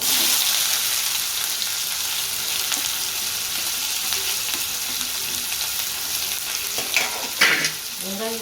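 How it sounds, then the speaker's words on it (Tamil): Chopped onions with cumin seeds sizzle in a hot pan while being sautéed for sambar, a steady close frying crackle with a few brief stirring scrapes near the end. "வெங்காயத்தோடு வதக்க முடியும்."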